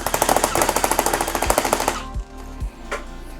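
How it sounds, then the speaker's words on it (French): An EMG Autobot electric airsoft speedloader pushes BBs into a Glock Marui magazine with a fast, loud mechanical rattling buzz of rapid regular clicks for about two seconds, then stops, leaving a few scattered clunks and handling knocks. "le speed loader a bien réussi à me garnir les 35 billes."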